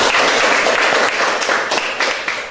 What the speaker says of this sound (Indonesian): Berikan tepuk tangan dong buat Kenzi